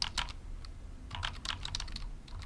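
Quick bursts of keystrokes on a computer keyboard, clustered irregular clicks close by, as someone types a search into Google, with no talking.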